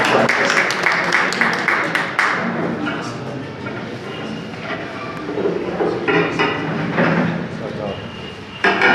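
Brief applause from an audience at a school program for Ambedkar Jayanti, with rapid clapping for about two seconds before it fades into voices, knocks and hall noise; a short burst of claps returns at the end.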